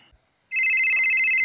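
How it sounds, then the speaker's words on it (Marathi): A mobile phone rings loudly and steadily after a short near-silent pause, its bright electronic tone holding unbroken to the end, with no talk over it. "फोन आला"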